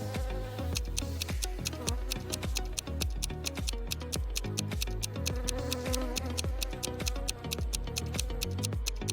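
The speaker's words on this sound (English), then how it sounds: "Betty stepped on a wasp's nest. Wasps were everywhere." Wasps swarming from a stepped-on nest, a steady insect buzz under a loud, regular ticking beat of background music, with no voices.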